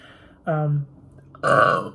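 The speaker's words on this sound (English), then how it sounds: "Excuse the burping." A person burps twice up close: first a short tonal belch, then a longer, rougher one about a second later, with no other sound around them.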